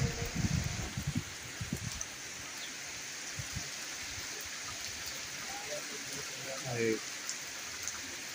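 Heavy rain falls steadily on a pigeon loft, a dense hiss of drops on surfaces running through the whole stretch, with a brief busier patch at the start and faint scattered chirps.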